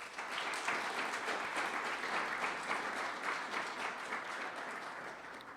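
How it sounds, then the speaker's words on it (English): A warm round of applause from a club luncheon audience, steady dense clapping that holds at an even level throughout without voices. "Please join me in a warm round of applause for all of them."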